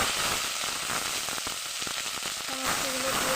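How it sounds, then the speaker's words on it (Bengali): Ground spice paste hits hot oil with bay leaves in a pan, giving a loud, dense sizzle with a few sharp spatters and clicks over a few seconds. "দিয়ে দেবো বাটা মশলাটা"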